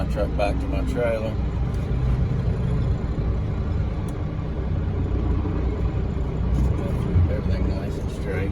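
Class A truck reverses slowly toward its trailer, a low steady diesel engine rumble close by with faint idle texture, while someone talks over it.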